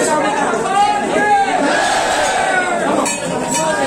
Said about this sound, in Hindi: गर्भगृह के भीतर का प्रवेश द्वार, भक्तों की भारी भीड़।